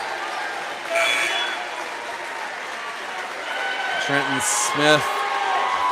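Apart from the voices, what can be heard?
crowd applauding at a basketball game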